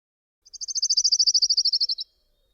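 A lone orange-crowned warbler sings one fast, even trill of roughly eighteen bright notes that drifts gently downward in pitch over about a second and a half, clean and isolated.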